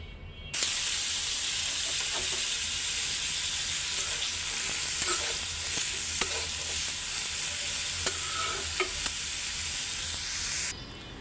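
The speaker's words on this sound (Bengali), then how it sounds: "তেলও গরম হয়ে আসছে ভাজিটা বসাই দিব" Vegetable bhaji with onion and chili drops into hot oil and sizzles loudly and continuously, a bright frying hiss with a few stirring clicks, cutting off abruptly at the end.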